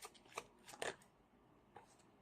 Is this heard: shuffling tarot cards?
yes